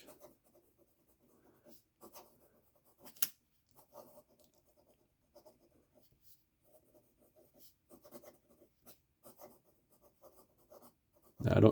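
A Pilot E95S fountain pen with a Japanese fine nib writes on paper, giving faint, soft scratching strokes in short irregular bursts, with one sharp tick partway through and a loud rustle at the very end.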